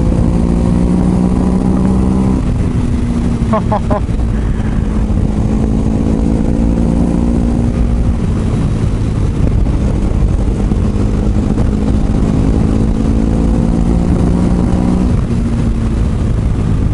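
A motorcycle engine revs and rides close by, loud and continuous, its pitch climbing through gears and dropping back in repeated surges of acceleration while the bike travels along.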